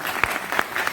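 A short burst of audience clapping at a motivational seminar fills the moment, dense and fairly loud, with a faint voice mixed in.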